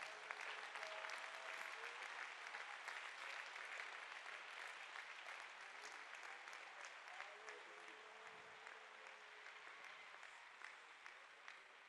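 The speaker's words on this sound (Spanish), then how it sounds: "No sé si le quiere dar un aplauso al Señor." A church congregation applauds in a sustained wash of clapping that stays fairly even and then thins slightly toward the end, heard from within the room, with a voice speaking faintly at times.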